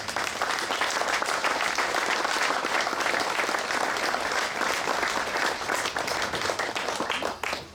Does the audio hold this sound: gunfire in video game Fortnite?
no